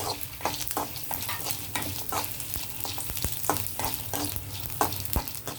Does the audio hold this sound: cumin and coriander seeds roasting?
yes